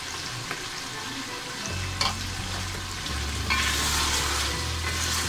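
Chicken, tomatoes and green chillies fry in a pan with a loud, continuous sizzle, broken by clatters and scrapes of stirring and a low hum underneath, with no speech.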